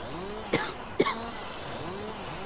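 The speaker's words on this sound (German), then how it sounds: "wir müssen mal ein bisschen Pause machen, wenn wir so husten" Two short, sharp coughs about half a second apart, fairly close, over a quiet engine hum in a farming game session.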